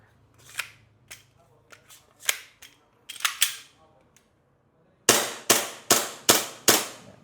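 An airsoft Glock 18 pistol fires in semi-auto, single sharp cracks spaced apart, with handling clicks and rustles between the first shots and a quick series of five louder shots at the end.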